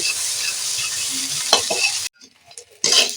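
Bottle gourd leaves sizzle and hiss in a pan while being stirred and turned over until the water cooks off; the steady frying cuts out briefly, then resumes with a scrape.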